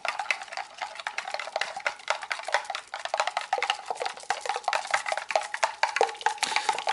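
A utensil whisks three beaten eggs with spices in a bowl, giving rapid, steady clicking and scraping strokes that repeat close up with no talking.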